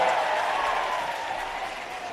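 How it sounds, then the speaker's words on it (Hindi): A crowd at a Bahujan Samaj Party political rally applauds loudly and steadily, a dense wash of clapping that tapers off slightly toward the end. "हम सभी जोरदार तालियों के साथ माननीय बहन जी का स्वागत, अभिनंदन, वंदन करने का काम करें।"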